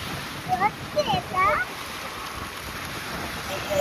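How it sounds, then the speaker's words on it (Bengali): Waves slap against a small boat rocking on the water in the Sundarbans, with splashes and wind noise on the microphone and a few brief bird-like calls, all fairly faint. "এত ঢেউ দিচ্ছেন, বোট দুলছি।"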